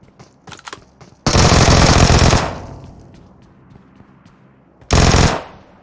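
Bursts of automatic gunfire in the PUBG Mobile video game, a long loud rattling volley after a few light clicks, then a quieter tail and a second short burst, close and with no talk.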